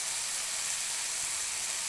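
Chicken pieces sizzling in a pan over medium heat just after ground turmeric goes in, a steady, even hiss and crackle with no voices.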